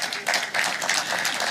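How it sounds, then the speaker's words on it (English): Audience applause at a bar admission ceremony for new advocates, a steady dense patter of many hands clapping, fairly loud and continuous throughout. "You clap for all the speakers for the advice."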